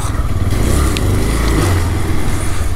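A motorbike rides through Bengaluru city traffic at night, its engine a loud, steady low rumble with continuous road noise and no pauses.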